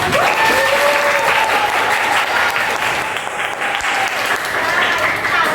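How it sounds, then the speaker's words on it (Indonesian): A classroom of students claps steadily and loudly in sustained applause, with faint voices and a brief whistle-like tone mixed into the clapping. "Tepuk tangan sekali lagi untuk kelas ini."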